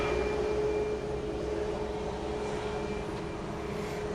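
A Cayman Airways airplane at Grand Cayman airport makes a steady engine drone with a low hum and a thin tonal whine, moderately loud and fading slightly.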